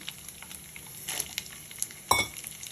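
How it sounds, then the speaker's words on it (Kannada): Quaker oats dry-roasting in a pan: faint, light sizzling and scattered crackles with a few louder stirring scrapes, the sharpest one near the end, and no talking. "ಇದನ್ನು ಚೆನ್ನಾಗಿ ಹುರ್ಕೊಳ್ಳೋಣ"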